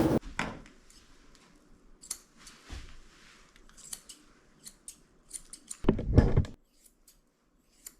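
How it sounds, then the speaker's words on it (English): Curved scissors snip through the fluffy head fur of a Bichon-Poodle mix being groomed, quick close metallic cuts in irregular bursts, with one louder handling rustle near the end. "I'm using my curved scissors on her head to make her head nice and round."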